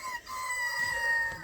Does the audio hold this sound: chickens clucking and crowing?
yes